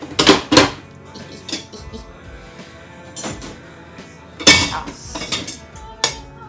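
Dishes, pots and cutlery clatter and clink in close bursts as they are handled and stacked for washing, with quieter gaps between the knocks.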